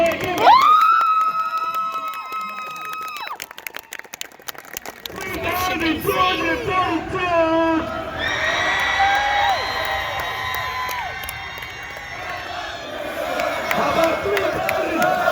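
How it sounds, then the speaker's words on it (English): A crowd cheers and whoops for Marines at an event, with loud shouts, whistles and voices rising together over a busy, continuous background of applause and noise. "how about a loud round of applause?"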